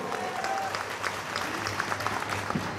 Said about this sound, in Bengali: তোমাদের বাবা মার জন্য একটা জোরে করতালি হবে এখানে